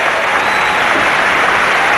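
A crowd at a 1996 bowling tournament, the Players Championship, bursts into dense, loud, sustained applause with no break across the moment.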